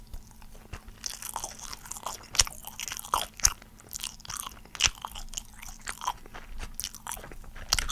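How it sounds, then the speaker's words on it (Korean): Crunchy chewing and biting on a dry, unheated military combat ration, close and steady with repeated crisp crunches over about eight seconds and no talking. "그냥 일단 이 상태로 한번 먹어보겠습니다"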